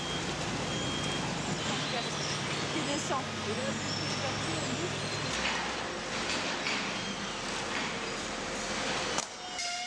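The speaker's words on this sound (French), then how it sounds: "Quand les camions arrivent, ils sont pesés et on note systématiquement la commune dans laquelle ils ont collecté." Garbage trucks arriving at a waste sorting plant, with a continuous loud engine roar and mechanical noise, a low rumble that drops midway, a brief sharp hiss near the end, and talk over the top.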